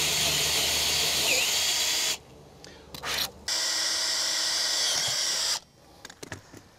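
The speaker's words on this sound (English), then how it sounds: "I'm gonna drill this hole like this" A power drill whines loudly in two long bursts, grinding into a wooden log, with short pauses and a few quiet stops and starts between.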